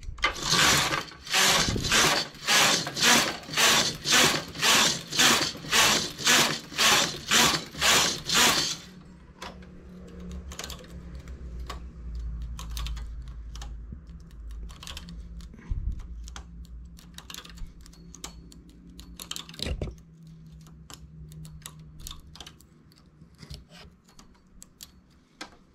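Carriage of a knitting machine being run back and forth for rows of a child's sweater: a fast, loud run of about fifteen rhythmic clacking sweeps for the first nine seconds, then quieter scattered clicks and handling noises.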